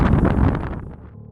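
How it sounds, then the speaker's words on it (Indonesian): A loud gust of wind whooshes through as a sound effect in a narrated folk story, rushing briefly and then fading away within a second or so. "tiba-tiba angin datang."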